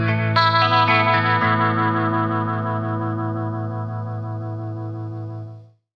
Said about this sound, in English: Looks like we have some vibrato, which can also be tapped if you want to slow it down or speed it up.